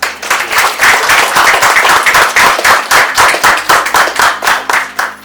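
A group at a meditation gathering clapping in unison, loud rhythmic beats repeating steadily and close by.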